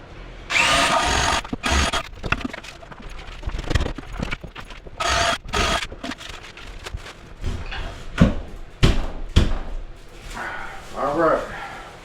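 A power drill bores into building material in a tiny house cabin build, its bit wrapped in tape as a depth mark, with short uneven bursts of grinding and knocking between pauses.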